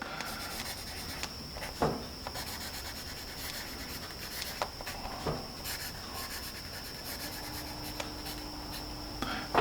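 Steady scratchy rubbing of a Palomino Prospector number 2 pencil moving across paper, soft and close, with a few sharper strokes and taps along the way.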